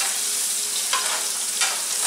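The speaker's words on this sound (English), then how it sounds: "Get them seared in and all that dry rub seared on in the oil." Wild game ribs coated in dry rub searing in hot oil, a steady loud sizzle with faint crackles and brief stirring rises, no voices.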